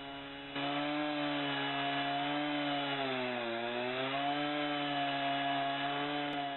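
A Logosol M7 chainsaw sawmill grinds steadily through wood, its engine drone holding a constant pitch with a brief dip in the middle, loud and close.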